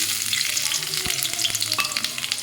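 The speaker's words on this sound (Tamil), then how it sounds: "ஆயில் நல்லா ஹீட் ஆகிடுச்சு. இப்போ நம்ம ஸ்பைசஸ்லாம் ஆட் பண்ணிக்கலாம்." Spices frying in hot oil for a cauliflower dish, a loud steady sizzle and crackle with utensil stirring scrapes running throughout, no voices.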